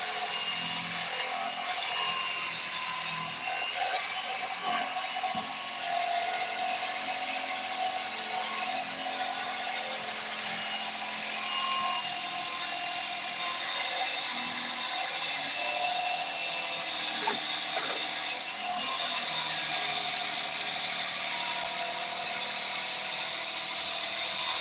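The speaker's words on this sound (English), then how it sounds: "When the foam is real dead like this and don't have no density to it, it's harder to cut with a knife like this." A knife cuts through old, low-density Corvette seat foam, giving a steady scraping, rasping sound that carries on throughout without pause, close and fairly quiet, with no talking.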